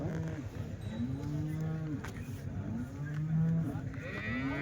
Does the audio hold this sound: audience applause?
no